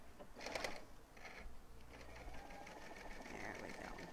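A home sewing machine stitches around the curve of a fabric face mask, its rapid mechanical whirring running in short bursts and then steadily, close by.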